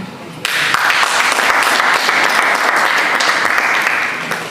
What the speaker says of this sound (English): Can we clap better?